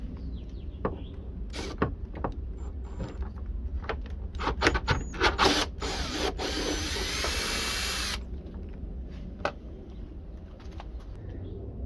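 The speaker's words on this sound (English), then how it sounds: "Next, I'm going to go ahead and unscrew this top bolt right here." Power drill or driver whirring in bursts while removing the top bolt of a car hood, close by, with a longer steady run in the middle and pigeons cooing in the background.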